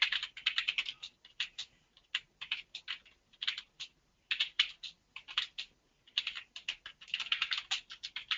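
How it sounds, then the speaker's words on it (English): Typing on a computer keyboard while entering a DNS zone file: quick, uneven clusters of crisp key clicks in bursts with short pauses, close and alone. "So let me quickly type in the zone file, the SOA record,"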